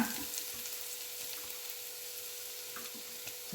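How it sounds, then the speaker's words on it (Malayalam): Steady sizzle of hot oil with faint scattered pops and crackles of mustard seeds popping, close and continuous, no voices. "കടുക് അങ്ങനെ പൊട്ടിക്കോളും"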